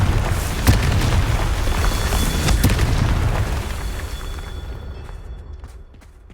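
A Confringo fire spell explodes in Hogwarts Legacy with a loud, booming burst and crackling sharp pops, then a rumbling roar that slowly fades out.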